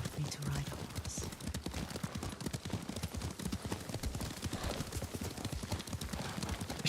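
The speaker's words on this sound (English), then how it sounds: "Lord Sakai taught me to ride a horse" Horse hooves clip-clop in a quick, steady rhythm while riding in the video game Ghost of Tsushima, running under character dialogue throughout.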